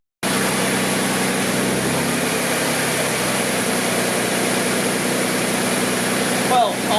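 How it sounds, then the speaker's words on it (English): A Jaguar AJ30 engine in a restomod car idles fast and steady for several seconds, a continuous close hum, with a brief rattle near the end. "now the engine is certainly running a lot cleaner than it was before"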